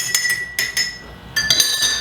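Metabisulfite being gently stirred into homemade wine inside a glass container, heard as a few sharp glassy clinks and taps spaced irregularly, close and fairly clear, with no talking.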